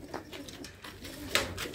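Pigeons coo softly in a few low, rounded calls from nearby birds kept in mesh-fronted coops, faint and unhurried with no voices.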